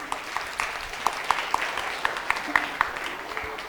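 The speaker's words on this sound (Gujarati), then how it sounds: "ટીમ વિશ્વાસ માટે તાળીઓ થઈ જાય" Classroom applause from schoolchildren at a 'Bharat Ko Jano' quiz competition for grades 6 to 8, a few seconds of scattered clapping with sharp individual claps rising toward the end.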